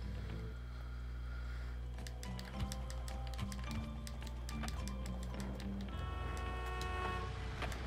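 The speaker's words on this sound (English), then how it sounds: "You weren't even moving. Why are you honking at me?" Car horns toot in the video game Bully, several short honks repeating over a steady backdrop of game music and ambient street noise, fairly loud and close, with no talking.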